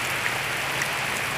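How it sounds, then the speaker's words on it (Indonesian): Heavy rain falls outdoors during a fishing outing, a brief, even hiss at moderate level with no talking. "tapi hujan deras sekali"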